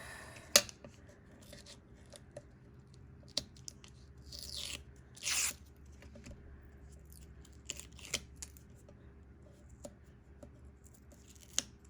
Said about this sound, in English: So let's peel all these off.